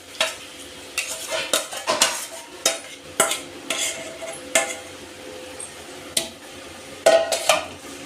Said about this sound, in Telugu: మనం ఇప్పుడు చికెన్ పెట్టుకున్నాం కదా, అది మనము ఈ ఆనియన్ టమాటా పేస్ట్ దాంట్లో వేసేసుకోవాలి